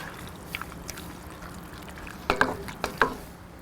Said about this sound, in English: Give this a little stir, get it all nice and incorporated here.